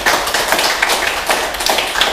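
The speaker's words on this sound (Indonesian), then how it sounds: "Tepuk tangan yang meriah untuk kita semua." Lively clapping from an audience at an Indonesian talk-show event celebrating local athletes, close and fairly loud with distinct individual claps in an uneven rhythm.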